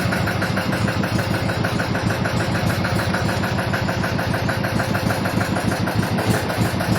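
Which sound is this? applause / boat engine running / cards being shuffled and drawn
boat engine running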